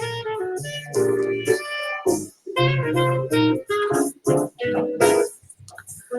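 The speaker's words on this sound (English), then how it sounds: "so now you can hear that music in the background." A jazz music track plays back inside a video editor, with prominent tonal melody lines and rhythmic pulses that pause briefly between phrases, heard clearly on its own with no talking over it.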